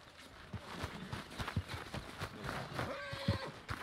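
A horse in the Red Dead Redemption 2 video game gives a short whinny amid soft hoof clops and snorts, close by, with a few scattered movement sounds and brief spoken voices around it.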